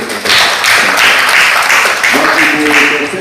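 Audience applause in an Indonesian school hall at an SMA Unggulan Garuda Baru event, a dense sustained clatter of many hands lasting a few seconds, with a faint voice or sustained tone entering toward the end.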